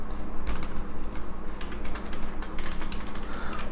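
Keys clatter on a computer keyboard as a mobile number is typed, a string of irregular, fairly close clicks in quick bursts over a low background hum.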